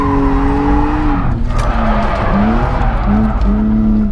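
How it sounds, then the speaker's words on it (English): BMW M3 E46 sliding in a drift, engine howling loud and close with pitch swooping up and down as revs change, tires hissing and scrubbing underneath. "So let's go ahead and get into a slide."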